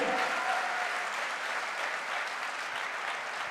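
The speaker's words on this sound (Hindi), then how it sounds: "एक बार जोरदार तालियां हो जाए अमित सर के लिए।" An audience at a celebration applauds steadily, a dense, loud clapping that holds evenly throughout without pause.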